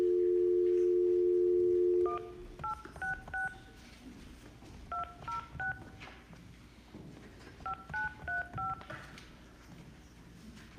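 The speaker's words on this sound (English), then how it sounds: "We're gonna get Mr. Schulte on the phone?" A steady dial tone, then telephone keypad tones as digits are entered to join a conference call, two quick bursts of beeps with a pause between, over faint room noise.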